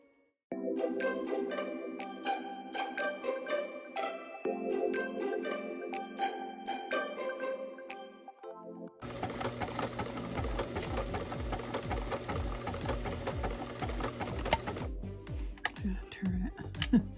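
A sewing machine stitches a herringbone stitch on a quilt square in quick mechanical bursts with brief pauses, near and clear, while tinkling music plays throughout and a person talks partway through.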